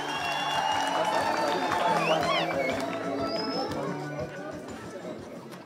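Applause from the congregation at a Catholic wedding, a steady patter of clapping carried along with crowd chatter, ululation and a voice speaking over it, slowly easing off.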